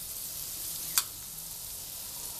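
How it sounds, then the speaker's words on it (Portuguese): Good-quality salted butter melting in a hot pan, giving a soft, continuous sizzle with one brief crackle and no talking. "vamos colocar na nossa panela a manteiga para ela derreter"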